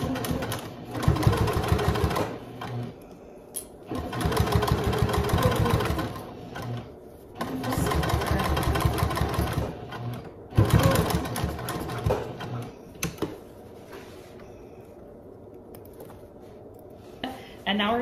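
A sewing machine stitches around bag layers at a half-inch seam, running in several long whirring bursts separated by short pauses, close by, with brief handling clatter between runs.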